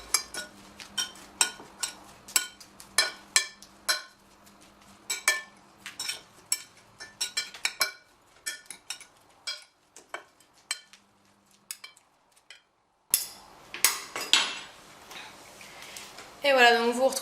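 A spoon tosses a mango and avocado salad in a bowl, producing quick, close clinks and scrapes of cutlery against dishware in an irregular rhythm, briefly pausing, then resuming louder, with a voice talking over parts of it.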